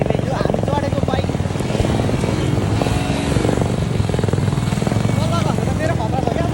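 A Bullet motorcycle's engine drones steadily and close while being ridden on a rough road, its rapid thumping pulse continuous throughout, with people talking over it.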